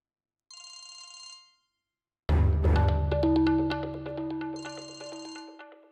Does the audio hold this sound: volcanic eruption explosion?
no